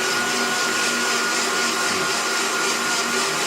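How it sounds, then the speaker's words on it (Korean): A blender motor runs steadily and loudly, a dense whirring roar that holds constant throughout with no voices. "자, 믹서기를 이제 돌려보겠습니다"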